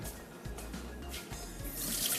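Boiled rice for a keema matar pulao is tipped into a strainer in a kitchen, draining water with a steady, close splashing pour and trickle that continues throughout.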